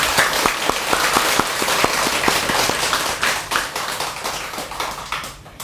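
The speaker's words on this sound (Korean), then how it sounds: "다시 한번 우리 박수로 시작드리겠습니다" A Buddhist temple congregation at a first-day-of-the-month prayer service claps together in steady applause, dense and sustained, with individual claps popping out before it slowly thins toward the end.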